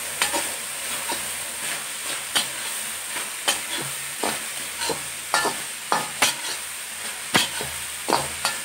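Beef curry is stirred in a pan without oil, giving a low simmering hiss punctuated by frequent sharp scrapes and knocks of a spoon against the metal in an irregular rhythm, close and fairly loud.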